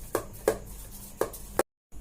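Pesarattu batter of coarsely ground moong dal is mixed by hand in a vessel, four distinct wet slapping strokes in uneven rhythm, close and moderately loud, before a brief silence.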